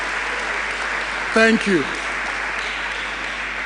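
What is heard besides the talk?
audience applause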